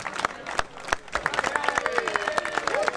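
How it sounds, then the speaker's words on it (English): A crowd claps at an outdoor village fair award presentation, with sharp scattered claps that build into steadier applause, along with crowd noise and a faint whistle-like tone. "So a big round of applause for them."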